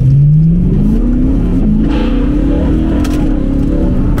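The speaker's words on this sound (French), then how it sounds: "la sonorité du V8 avec cette boîte en carbone et la ligne Acra" A modified BMW M3 E92 V8 with an Akrapovic exhaust and a carbon intake box revs loudly and close, pitch climbing steadily over several seconds in one continuous rising pull.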